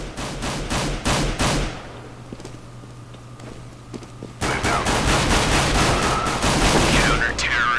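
Counter-Strike: Global Offensive gunfire, rapid bursts of automatic shots, a quieter lull with a few isolated pops, then a dense sustained volley, with faint talk mixed in.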